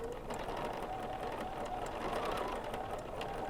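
A sewing machine runs steadily and quietly, stitching a tiny pebble quilting fill with a fast, even mechanical whir throughout, no voices.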